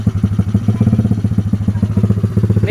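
A mini trail motorcycle engine runs close by with a fast, even putter of rapid pulses, loud and steady, with no talking.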